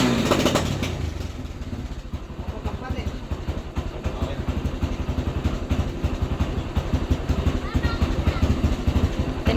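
A tricycle motorcycle with a new sidecar being started and left running, its engine clattering and idling unevenly up close, with people talking over the noise.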